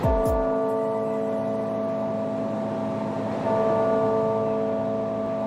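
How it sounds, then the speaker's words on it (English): Sustained ringing church bell tones hum steadily, overlapping harmonics lingering and swelling slightly, large bells tolling at a distance across Sydney for the death of Queen Elizabeth II, with no voices. "a 96-gun salute rang out at Parliament House, and bells tolled across Sydney for the Queen."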